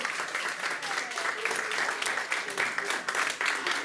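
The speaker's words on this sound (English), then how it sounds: "give them a round of applause" Audience members at a hypnotist show clap in a lively, uneven burst that holds for several seconds, with the performer's voice and some chatter mixed in.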